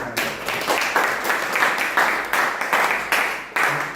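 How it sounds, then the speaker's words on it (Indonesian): A vocational high school logistics class claps after a group presentation, a moderately close round of applause with a steady rhythmic pulse of hand claps. "Saya kasih aplaus dulu."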